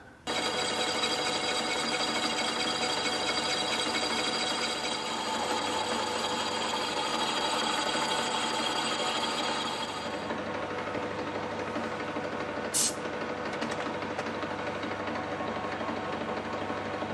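A machine runs steadily while taking a light skim cut on a part from a Briggs & Stratton engine, a continuous whirring, buzzing drone with a slight change partway through and a single brief higher tick near the end.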